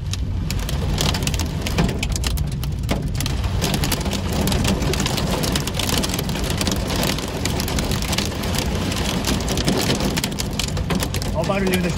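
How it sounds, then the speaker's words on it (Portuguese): Large hailstones pelting down in Nova Petrópolis, Brazil, a dense, constant rattling patter on roofs and ground with strong wind, close and loud, with someone talking briefly over the din. "Barulhinho das pedrinhas."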